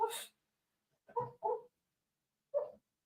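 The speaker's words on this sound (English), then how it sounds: "My dog over there having nightmares." A dog whimpering in its sleep during a nightmare, giving four short, faint whines and yips separated by silence, a little distant in a quiet room.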